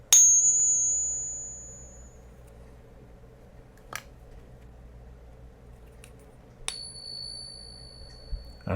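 A silver Morgan dollar coin, an 1883 Carson City piece, gives a bright ping when struck in a test, one sharp ring at the start and a few quieter taps and a second ring later over a low hum.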